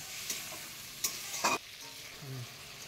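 Spice paste for a thin fish curry with drumsticks, loosened with a splash of water and chili powder, sautés in a pan with a faint sizzle, a few scattered stirring scrapes and a brief louder burst.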